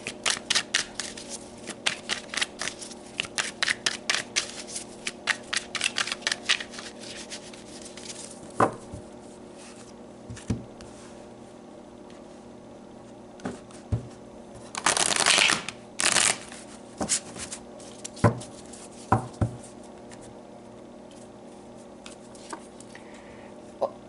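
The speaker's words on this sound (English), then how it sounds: "I just want to pull a few more cards" Tarot cards are shuffled close up in quick bursts of riffling and soft slapping, with a louder flurry midway and scattered taps in a quiet room, no talk.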